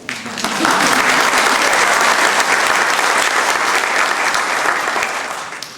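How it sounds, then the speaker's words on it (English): An audience at a Navy medical laboratory technician graduation at the Naval School of Health Sciences, Portsmouth, bursts into sustained applause that holds loud and even for several seconds before tapering off. "you can clap"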